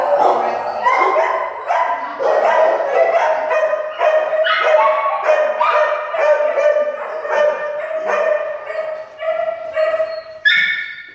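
Many dogs bark and yelp over one another nonstop in an animal shelter, a loud echoing chorus of overlapping barks with occasional whines.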